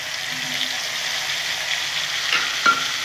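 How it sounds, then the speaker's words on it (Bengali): Onion paste sizzles and fries in a pan with spices for an egg curry, a steady bright hiss with a couple of stirring clinks near the end, close and without talk. "পেঁয়াজটা ভালো করে কষে নেব।"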